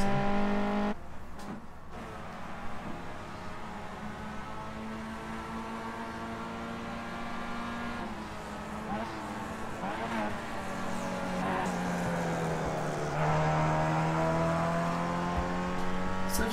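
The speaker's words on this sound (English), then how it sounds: "Skip Barber Formula 2000 car, just drive around the track at Okayama for the last lap." Skip Barber Formula 2000 race car lapping the Okayama circuit, its engine droning steadily with pitch rising and falling through gear changes and revs, continuous and fairly near throughout.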